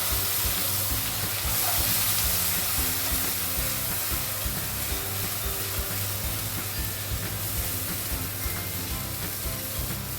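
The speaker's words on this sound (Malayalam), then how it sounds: "അരച്ച് വെച്ചിരിക്കുന്ന വെളുത്തുള്ളി ഉള്ളി പേസ്റ്റ് ഇതിലേക്ക് ഇട്ട് കൊടുക്കാം" Ground garlic and onion paste fries in oil in a pan while making palak paneer, giving a loud, continuous, dense sizzle that holds steady throughout with no voices.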